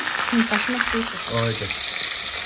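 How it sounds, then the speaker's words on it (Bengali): Fish fries in a pan in a Bangladeshi home kitchen with a loud, dense, steady sizzle throughout, while a voice murmurs briefly underneath. "এদিকে দেখো মাছগুলো ভাজা করে নিচ্ছি"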